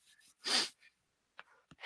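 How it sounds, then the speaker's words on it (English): A person sneezes once, a short explosive burst close to the microphone, framed by faint breaths and small vocal sounds. "Oh, another sneeze."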